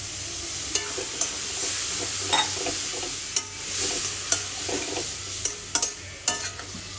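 Spice paste fries in a pan with a splash of water, a steady close sizzle broken by sharp scraping clicks of a spoon stirring several times, with no voices.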